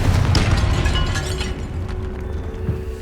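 A Confringo spell explodes inside a tomb in Hogwarts Legacy, a loud, rumbling fiery burst that stays dense and booming at the start, then slowly fades over a few seconds.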